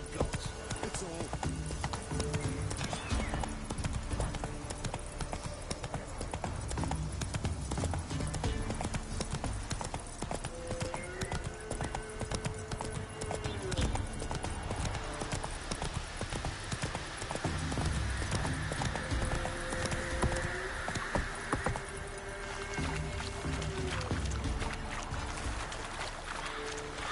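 Roach the horse gallops in The Witcher 3, a steady drumming of clip-clopping hooves, loud and close, running under continuous game music throughout.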